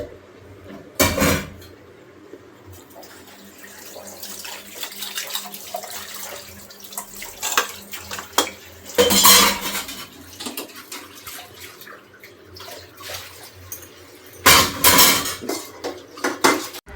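Dishes, pots and utensils being washed at a kitchen sink, with clattering of pans and cutlery, scraping and splashing water in bursts alongside a steady trickle from the tap, close and fairly loud throughout with no talk.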